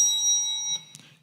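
A timer bell marks the end of a speaker's allotted time at a council planning committee meeting. It rings as a sustained, bright metallic tone that fades, followed by a soft knock in a quiet hall.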